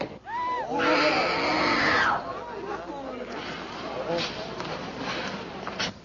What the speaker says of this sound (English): Don't stand there and scream.